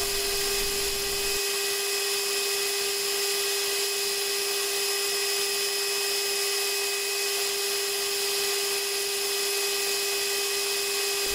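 A metal lathe turns the outer diameters of a small hollow tubular rivet with very thin walls, giving a steady, loud, continuous high-pitched whine with a constant tone that runs unbroken throughout.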